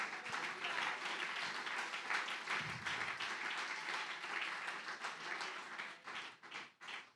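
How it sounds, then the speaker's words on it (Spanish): A church congregation claps together during a Spanish-language baptism sermon, a dense broadband patter of many hands filling the room evenly before thinning out toward the end. "Dele ese aplauso al Señor."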